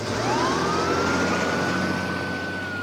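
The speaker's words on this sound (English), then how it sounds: "Siren blaring, the squad car speeds over to the mole's dimly lit apartment." A police squad car siren wails in a long, slowly rising and sustained tone over the rumble of the moving car, fairly loud, in a radio drama.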